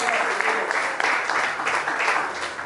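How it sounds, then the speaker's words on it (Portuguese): A church congregation applauds during a Portuguese-language healing and deliverance service, with dense, loud clapping throughout that swells and eases in waves. "aplaude o Senhor"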